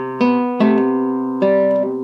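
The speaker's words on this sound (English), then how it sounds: "From the bar before, it sounds like this." Guitar picking a few bars of the Manx folk tune Yn Mheillea, three clear plucked note attacks ringing out in a slow melodic phrase, close and alone with no talking.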